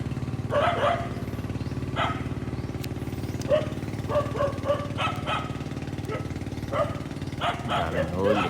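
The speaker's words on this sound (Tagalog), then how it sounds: "may mga aso rin. Kaya maingay yung ating video." Dogs near a riverside hut on the Pakatan River bark in short, repeated bursts, some close and some farther off. A steady motor drone runs underneath throughout.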